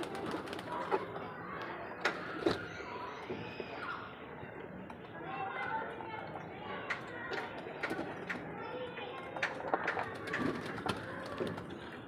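Pigeons coo and flutter amid a busy outdoor bustle, with scattered clinks and knocks and voices talking in the background.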